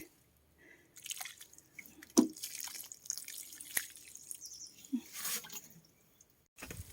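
A garden tap left running into a basin gives a soft, steady trickle and splash with occasional drips and sharper plops, close by and with no talk.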